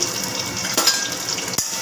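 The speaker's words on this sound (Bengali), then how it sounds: "চলো আলু ভাজাটা একটু ভেজে নিই" Potatoes frying in a pan, a steady crackling sizzle close by with a couple of brief clatters of stirring.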